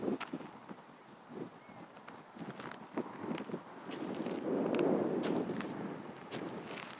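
Wind gusts across San Pablo Bay, rising into a broad rushing swell before easing, with faint scattered taps and movement sounds close by and no talking.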